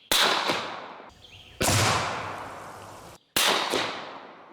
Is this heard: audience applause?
no